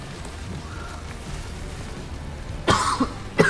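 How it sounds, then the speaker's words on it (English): One sharp cough bursts out close to the microphone near the end, followed by a short second hack, after a stretch of quiet room hum. "Sorry for the cough."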